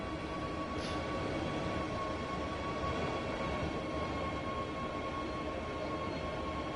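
Class 187 locomotive passing in Train Sim World 6, heard as a steady, loud rumbling roar of a moving train with a sustained tonal hum throughout, no voices.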